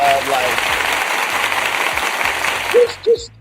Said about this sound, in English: I'm gonna give you some applause